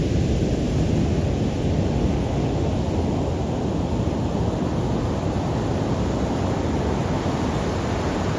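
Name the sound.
ocean waves crashing onto the shore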